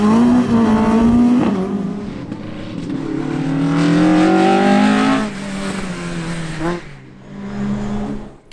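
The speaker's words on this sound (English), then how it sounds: "Kevin McCarthy in the Evo 10 gets off to a steady start" A Mitsubishi Evo 10 rally car launches on a sprint run on changeable surfaces, its engine revving hard and loud with rising gear-by-gear pulls, a brief lift near the end, then climbing again nearby.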